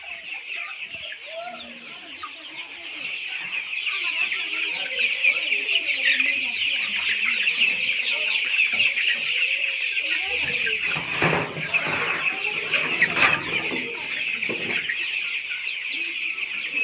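A flock of chickens at a poultry farm selling ducks, hens, quail, guinea fowl and turkeys, a dense continuous chorus of clucking and chattering close by, with brief louder bursts partway through and no talking.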